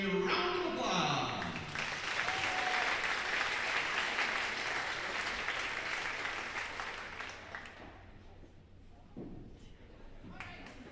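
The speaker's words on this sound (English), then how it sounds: "We give them all a round of applause." Crowd applause fills a gym at a high school volleyball match between West Fargo and Sheyenne, a dense steady clapping that holds loud for several seconds before thinning out, with a few scattered claps and cheers at the end.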